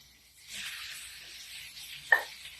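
Turkey sausage hitting a hot pan and searing, a soft steady sizzle with a sharper hiss flaring up near the end, quiet and close.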